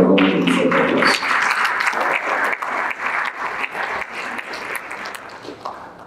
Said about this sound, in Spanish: recibimos a Mario Gómez con un fuerte aplauso.